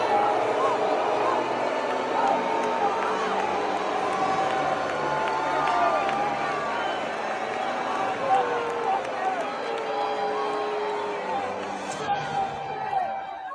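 Stadium crowd at a game reacting, a dense roar of many voices shouting, chattering and booing that stays steady and loud throughout.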